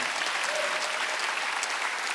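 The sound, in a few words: congregation applause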